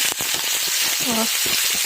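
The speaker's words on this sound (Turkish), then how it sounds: "Şimdi biraz kızarttıktan sonra arkasını çevireceğim." Chicken meatballs frying in a pan on a home stove, a steady broadband sizzle throughout with a voice briefly audible over it.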